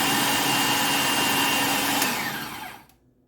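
Food processor blade whirring steadily as it chops Thanksgiving side dish ingredients, a loud continuous motor drone that winds down and stops near the end.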